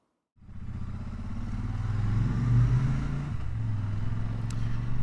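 A Royal Enfield Super Meteor 650 motorcycle starts moving after a brief silence, then its engine settles into a steady, throbbing drone as it rides through a Lancashire village, moderately loud and close.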